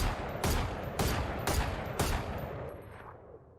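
A rifle in the video game Valorant fires five evenly spaced single shots about half a second apart, loud and punchy, with the last report trailing off into a fading echo.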